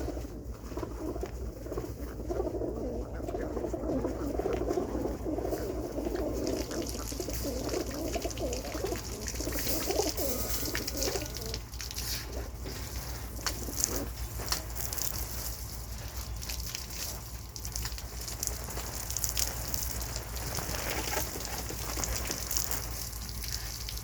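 Pigeons coo and call while being washed under a shower of water, the birds laid out and their feet rinsed; steady water spray runs throughout with bird vocalizations mixed in, close and fairly loud.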